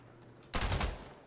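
Sudden close burst of automatic gunfire in Insurgency: Sandstorm, a loud rapid rattle of shots after a quiet half-second lead-in.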